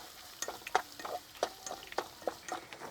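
Sliced shallots and split green chillies fry in oil in a pan for Kerala-style moru curry, with a soft sizzle under repeated close scraping stirs at an irregular pace.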